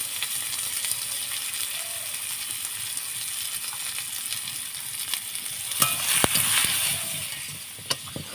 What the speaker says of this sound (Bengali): আলুগুলো একটু নাড়াচাড়া করে ভেজে নেব